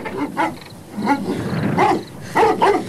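A large dog in a German audio drama, broken loose from its leash, makes repeated growling, barking bursts at a steady pace. The sounds are fairly close and loud, with no talk over them.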